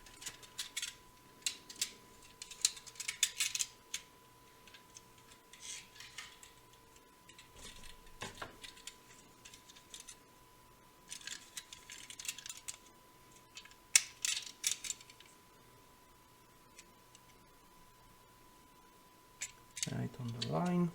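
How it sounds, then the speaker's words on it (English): Sharp snips and ticking clicks of plastic parts for a Messerschmitt Me 262 A-1a scale model plane being trimmed, scattered in bursts across a quiet workbench, with a low steady hum and a louder clatter near the end. "And just a little trimming to do."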